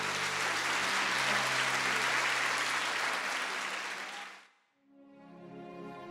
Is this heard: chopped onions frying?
no